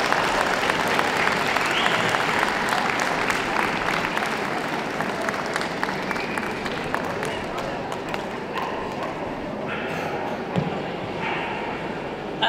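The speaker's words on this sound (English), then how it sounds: "Big round of applause." Audience at a dog show in Manchester applauds the Terrier Group winner, a Skye Terrier, with sustained clapping in a large hall, voices and movement mixed in beneath.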